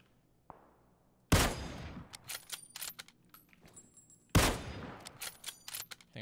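Gunfire in PUBG: two loud bursts of rapid shots, each a sharp initial crack followed by a quick string of shots and echoing reports, with a small click just before.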